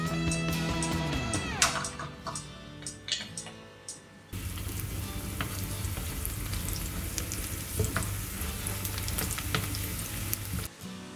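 A short burst of music cuts off, then garlic sizzles and crackles steadily in extra virgin olive oil in a small pot, close by and alone.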